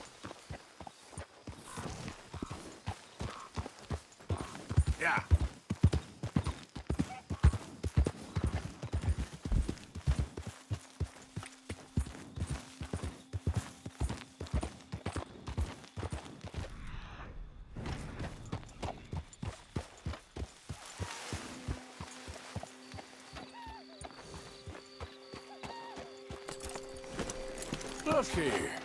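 Horse hooves clip-clopping in Red Dead Redemption 2, a long run of steady, close hoof strikes that slow and fade near the middle before resuming, with in-game voices talking over them.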